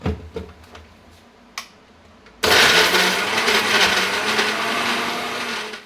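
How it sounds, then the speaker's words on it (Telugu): A kitchen mixer grinder blends ripe red chillies into a smooth paste for pickle; a few light taps come first, then the motor kicks in with a loud, steady whirring grind. "ఇదైతే మెత్తగా మిక్సీ చేసేసుకోవాలి"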